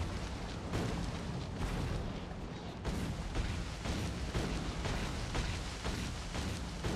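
Repeated grenade explosions clearing a forest in Factorio Space Age, a dense run of muffled booms and crackling blasts overlapping steadily at a moderate distance, without any voices.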